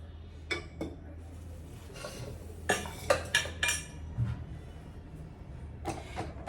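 Roasted ingredients go from a hot pan into a pressure cooker, with several metallic scrapes and clinks of spoon against metal vessels spaced irregularly over a low background hum, close and moderately loud.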